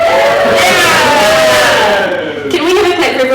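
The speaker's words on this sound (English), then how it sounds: "Can I have a holler if you're from the UK?" A comedy audience in Glasgow hollers and cheers for people from the UK, a loud, sustained wall of whooping voices that swells and then thins slightly toward the end.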